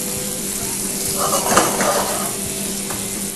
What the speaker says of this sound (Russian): Начинаем обжарку С буряка.